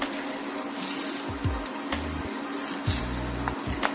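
Steady crackling sizzle of battered meat pancakes frying in a hot pan over medium heat, continuous throughout, with a few soft clicks and low thuds of a utensil against the pan.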